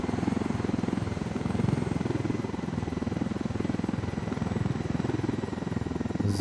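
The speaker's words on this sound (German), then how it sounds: "Ihr habt den zweiten Hubschrauber." A helicopter in the video game Ghost Recon Wildlands, its steady rotor thump and engine drone holding loud and close throughout with no talk.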